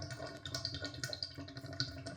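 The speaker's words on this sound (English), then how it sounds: "That means the water is draining out." Water draining out through the pipes of an opened faucet after the water supply is shut off, a steady faint hiss with light gurgling trickles, heard alone.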